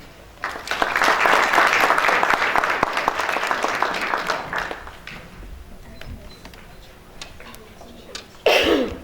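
An audience at an anti-racism essay competition publication launch gives a warm round of applause that starts suddenly, holds for a few seconds, then thins to scattered claps and room noise before a short, louder sound at the end.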